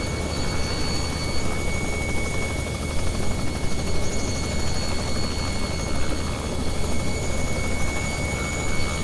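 Steady, loud turbine whine and rotor roar from a Robinson R66 helicopter air taxiing to a helipad, continuous throughout without talk.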